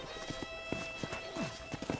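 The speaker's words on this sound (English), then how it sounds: "I picked out a fine horse for you." Horse hooves clip-clop in the video game Red Dead Redemption, a quick irregular run of soft knocks at moderate distance over a faint background hum, with a brief snort or whinny mixed in.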